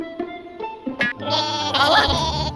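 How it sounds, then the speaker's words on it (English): A cartoon sheep bleats after toppling over in an animated VeggieTales scene, giving several wavering, nasal cries close up and loud, with a busy clattering thump mixed in partway through. "Oh, my sheep fell over."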